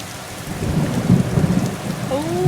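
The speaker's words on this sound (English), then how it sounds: "Fuck you, Thunder!" Thunder rumbles low and heavy over steady rain during a country thunderstorm in Maine, the rolling booms swelling midway while rainfall hisses continuously.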